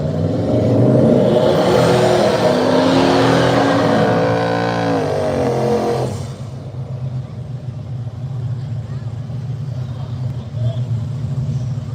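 Drag race cars, a Camaro and a New Edge Mustang, launching and accelerating hard, a loud roaring engine sweep rising in pitch before dropping off into a lower rumble, with a crowd and talk underneath.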